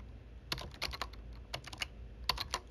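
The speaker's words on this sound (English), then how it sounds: "So if you open another terminal and you type sudo" Keys clack on a computer keyboard as a terminal command is typed, a few quick bursts of clicks separated by short pauses, close and fairly quiet with no voices.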